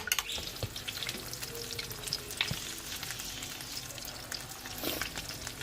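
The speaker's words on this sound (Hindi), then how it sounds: "अंडे में डिप करके कटलेट, और बिल्कुल दरमियानी आंच पे ये हमने एक से टर्न कर लिए हैं।" Egg-dipped chicken and potato cutlets fry in a pan over medium heat, giving a steady close crackling sizzle with scattered sharper pops and light clinks, and no voices.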